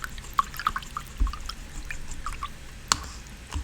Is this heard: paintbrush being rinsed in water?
yes